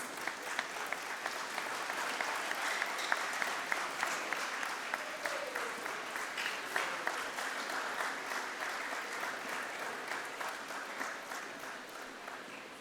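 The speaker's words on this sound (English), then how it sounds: "Please let's rise and give her a loud round of applause." Steady applause from an audience at a memorial lecture, sustained and even throughout, with faint background voices mixed in.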